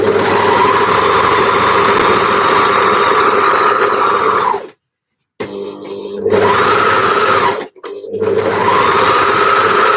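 A sewing machine stitching t-shirt sleeves runs in a loud, steady whir close by, stops briefly, restarts, pauses again and resumes.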